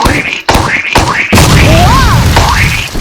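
A sudden crashing burst as a Roblox character bursts from overeating rings out amid busy electronic game sounds, followed by warbling synth tones.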